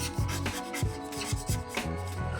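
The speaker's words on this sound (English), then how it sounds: "just grab the chisel tip of the black pen and just block that in" A black chisel-tip marker pen rubs quickly back and forth over paper while colouring in a drawing, a close, quiet, rhythmic scratching of short strokes.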